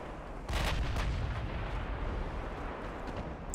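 Naval guns fire in the warship battle game Ultimate Admiral Dreadnoughts, a sudden loud boom at half a second followed by a long rumbling roll and faint later bursts, with no talk.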